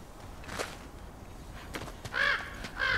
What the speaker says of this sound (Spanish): Más cuervos. ¿Intentáis decirme algo?